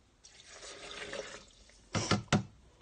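Water from a cup poured into avocado and cucumber soup ingredients, a soft splashing pour that runs for over a second, then two short sharper splashes near the end.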